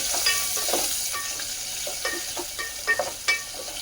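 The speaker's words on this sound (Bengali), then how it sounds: "তো এইটা ঘিয়ে ভেজে নেব।" Grated coconut and cashews frying in ghee in a pan, a soft continuous sizzle broken by repeated scraping and stirring strokes of a spatula against the metal, close and fairly quiet.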